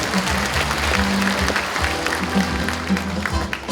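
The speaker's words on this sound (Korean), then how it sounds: "힘찬 박수 부탁드리겠습니다" Applause from the audience at a community talk concert, a steady wash of clapping over a low sustained tone, with some steady background sound running underneath throughout.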